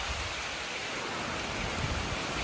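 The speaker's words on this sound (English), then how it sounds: "I made it rain. Get under cover here." Steady rain falling outdoors on a hay farm during haymaking, a dense, even hiss that runs without a break, close and loud with no voices.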